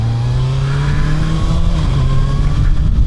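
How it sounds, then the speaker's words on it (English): A Kawasaki ZX6R 636 sport motorcycle at speed, its engine and intake droning loud and steady with a slowly shifting pitch, close up. "The intake noise is incredible on this little bike"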